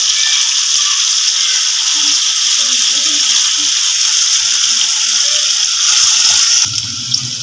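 Chopped onions sizzle steadily in a hot pan as they soften, a loud continuous hiss with faint low murmuring beneath and a brief crackling shift near the end.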